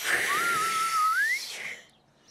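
An attempted whistle through pursed lips comes out breathy and airy, a thin wavering tone sliding over a hiss of blown breath for about a second and a half, then fading.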